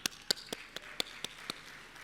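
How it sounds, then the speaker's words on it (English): A small audience claps in a sparse, evenly spaced rhythm, about eight sharp distinct claps at a moderate distance, with no talking over them. "Applause if it's Tanzania."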